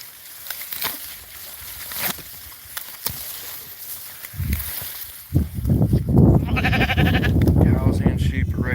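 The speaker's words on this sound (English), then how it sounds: "Cows and sheep are right here." Sheep bleat at a farm during evening chores, first sparse scuffling and rustling, then louder close bleating and animal noise in the later half, with a person talking briefly.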